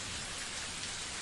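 Steady rain falls in a continuous, dense hiss, close and even throughout, with no distinct thunderclap standing out in this brief stretch.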